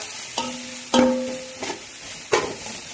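Onions fry in a hot pan with a steady sizzle, broken by a few sharp clinks and scrapes of a utensil stirring them, close and without talk.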